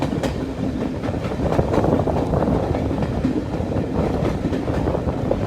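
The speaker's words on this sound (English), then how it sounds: "Clickety clack, clickety clack. That sound of the tracks." Steam train rolling on a Highland heritage railway line, wheels beating a steady, loud clickety-clack over the rail joints amid continuous rumbling carriage noise, heard close up from on board.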